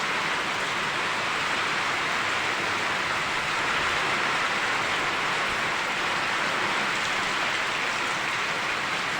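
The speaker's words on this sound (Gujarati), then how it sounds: "જોરદાર પડે ભાઈ વરસાદ." Heavy rain pours down on a farm, a dense, constant hiss of drops hitting surfaces that holds steady and fairly close throughout, with no one talking.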